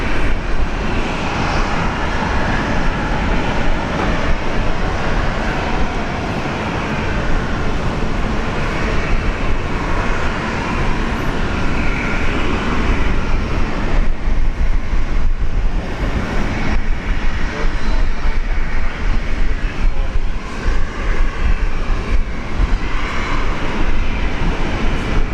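An airliner on approach to Brisbane International Airport produces a broad continuous engine roar that stays strong and fairly steady, with slight swells and dips in intensity throughout.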